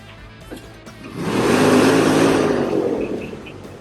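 An off-road vehicle crossing open terrain in Palo Duro, its engine swelling from a distance into a loud, sustained roar and then easing slightly as it passes.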